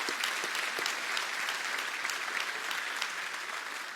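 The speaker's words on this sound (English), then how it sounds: "So parents, can we please clap it up for our parents and our guardians?" An audience at a school commitment day claps steadily and fairly loudly for parents and guardians, a dense, even wash of applause sustained throughout without a break.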